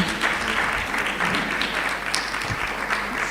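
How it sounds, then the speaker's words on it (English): Audience applauding panelists at a Ghanaian fashion business summit launch, a steady dense clapping that fills the room throughout without letup. "I think we should give them all a round of applause again"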